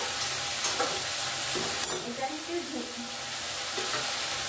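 Small chuno fish frying in oil in a pan, giving a steady close sizzle with a few louder crackles and stirring scrapes partway through.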